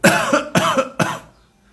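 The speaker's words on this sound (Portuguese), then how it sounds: "Mas tosse de fazer barulho." Three loud, sharp coughs in quick succession, close by, each a harsh burst followed by a short breathy tail.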